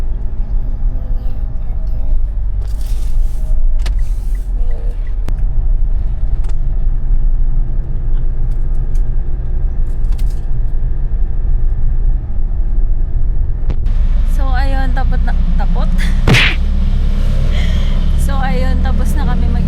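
Steady low road rumble of a car heard from inside while driving after an office meeting, with people talking over it and a few brief louder bursts near the end.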